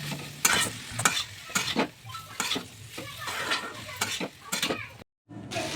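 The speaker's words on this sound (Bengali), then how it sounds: "তারপর সবগুলোকে একসঙ্গে মিশিয়ে নিলাম" Samosa filling of boiled potato, peas and cauliflower in spices is stirred and fried in a pan, with repeated scraping strokes over a soft sizzle, close and fairly quiet, briefly cutting out near the end.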